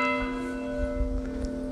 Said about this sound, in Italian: le campane stanno per suonare